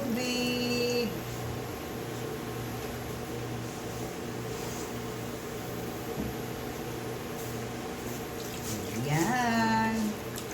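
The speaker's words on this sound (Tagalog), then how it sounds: "Dagdagan natin ng tubig." Water pours steadily into a pot of chicken sinigang in a home kitchen, a continuous gushing splash under a low appliance hum, with a brief rising sound near the end.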